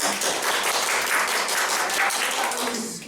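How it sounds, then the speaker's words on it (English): Sustained applause from an audience, steady clapping filling the whole stretch before tapering slightly at the end. "So if you think it was Kyle, give me a round of applause."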